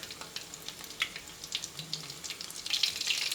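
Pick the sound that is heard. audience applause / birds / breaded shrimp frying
breaded shrimp frying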